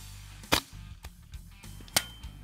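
A few sharp .22 rimfire rifle cracks ring out in a quiet outdoor setting, two loud and close, with fainter pops and knocks of bullets hitting a distant target scattered between them.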